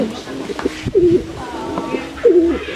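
Pigeons coo in two soft, throaty bursts at a pigeon loft in Dagupan City, Pangasinan, with faint background noise between them, close by.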